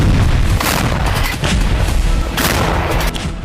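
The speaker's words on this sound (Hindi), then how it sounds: "यूक्रेन के खेमेलनित्स्की में कई धमाके हुए हैं।" Missile strikes in Ukraine set off a dense run of loud booms and blasts, rolling with little pause through the few seconds and carrying strong low rumble, with no voices over them.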